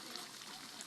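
Water spouting from a dragon-shaped fountain at a garden with lotus plants, a steady broadband splashing trickle that runs evenly throughout, fairly close.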